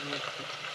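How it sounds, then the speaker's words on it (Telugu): Green chillies, onion and curry leaves frying in oil in a village kitchen, a faint brief steady sizzle. "ఇదిగో అదే నూనెలో ఇదిగో పచ్చిమిరపకాయలు, ఉల్లిపాయ, కరివేపాకు వేసా."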